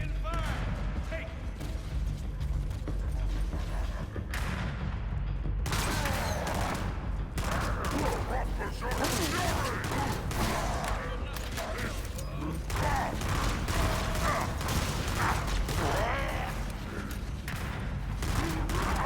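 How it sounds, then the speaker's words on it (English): Sustained gunfire and explosions in Halo: Campaign Evolved: continuous loud fusillades with crashes and mechanical clatter across the whole scene, and voices speaking over the combat. "We're taking fire."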